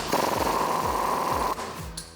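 Loud, steady pneumatic impact wrench hammering on a 21 mm socket with a 5-inch extension, working the axle-side track bar bolt loose on a Jeep Wrangler JL; a continuous buzzing rattle for about a second and a half before it cuts off.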